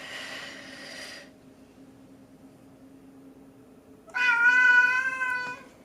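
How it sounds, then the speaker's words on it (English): A small cat meows close by, one brief cry followed by several seconds of quiet room hum, then a second longer, louder, strongly tonal meow. "You're too loud, little cat."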